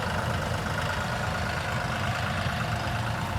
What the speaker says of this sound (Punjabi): ਕੰਬਾਈਨ ਉਧਰ ਚੱਲ ਰਹੀ ਆ ਮਸ਼ੀਨ